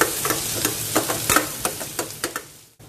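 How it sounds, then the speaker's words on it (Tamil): Chopped onions with a green chilli sautéing in a pan, a close frying sizzle broken by a steady run of sharp spoon scrapes and taps as they are stirred, fading off at the end. "வெங்காயத்தை லேசாக வதக்கிடலாம்"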